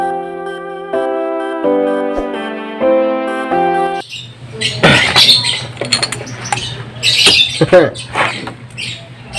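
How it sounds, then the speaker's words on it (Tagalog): Many birds squawk and chatter loudly and close by in a busy, overlapping chorus, following a few seconds of steady tonal notes. "medyo maingay yung mga ibon dito eh"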